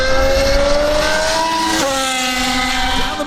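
Formula 1 race cars screaming down the main straight of the Portuguese Grand Prix, engines loud and close with rising pitch and a shift midway, continuous with no talk.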